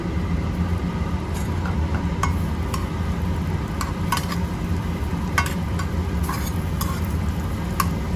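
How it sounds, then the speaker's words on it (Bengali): Chopped garlic frying in a wok while restaurant-style chilli fish is being made: a steady, close sizzle runs throughout, broken by scattered sharp ticks and scrapes of stirring, with no talking. "কেটে রাখা রসুনটা দিচ্ছি"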